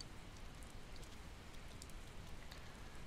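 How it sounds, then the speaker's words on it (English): Rainfall in the video game Persona 4 Golden, a soft, even patter of drops on surfaces, faint and continuous with occasional brighter ticks. "Well, this rain. I hate rain."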